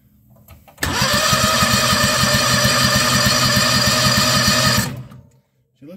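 Predator small engine swapped into a Bobcat is started and runs for about four seconds with a loud, fast, buzzing putter, then cuts off and winds down. Quiet before and after.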